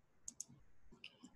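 Several quick, light computer mouse clicks sound close and quiet, a pair of clicks followed by a few more in an otherwise quiet room.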